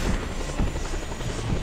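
A helicopter's steady rotor whir and engine drone in the video game Just Cause 2 fill the clip, loud and continuous, with no talking.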